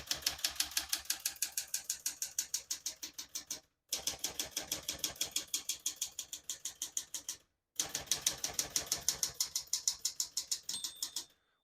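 Rapid, steady clacking of keys on a 1980s Smith-Corona Deville Deluxe manual portable typewriter in three bursts separated by brief pauses, close and fairly loud, with no voices.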